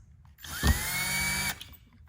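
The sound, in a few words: power drill pre-drilling holes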